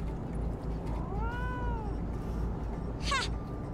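A cat gives a single drawn-out, wavering meow, clear and fairly close over a steady low background hum, with a short bright rustle or hiss following a little later.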